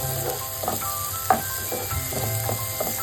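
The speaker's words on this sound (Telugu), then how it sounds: "ఆనియన్ని మంచిగా ఫ్రై చేసుకోవాలి ఆయిల్లో." A medium onion, chopped small, sizzles as it fries in oil in a pan for a tomato bath, with a steady hiss and a few soft stirring scrapes throughout. No one speaks.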